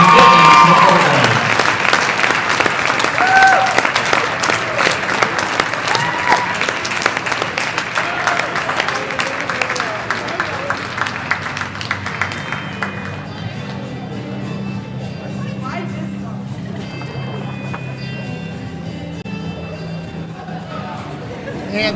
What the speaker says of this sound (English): Let's give these young women a round of applause for their hard work and commitment to the program.